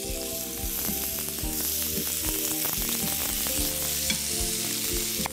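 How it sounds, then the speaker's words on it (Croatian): Tuna steaks brushed with olive oil sizzle oil-side down on a hot grill pan, a close, steady frying hiss broken by regular crackling pops. "I na uljanom stranu prema dolje stavljamo ih peći na vruću grill tavu."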